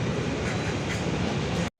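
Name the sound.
train running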